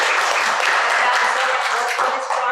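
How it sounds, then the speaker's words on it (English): Dense, steady applause from a lunch-talk audience honoring a group of students, many hands clapping loudly and continuously at close range throughout. "give a round of applause to these wonderful students"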